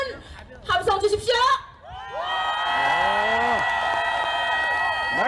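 An outdoor crowd at a political campaign rally in Duryu Park, Daegu, gives a loud, sustained roar of cheering and shouting. Before the roar there is an amplified voice with a short burst of speech.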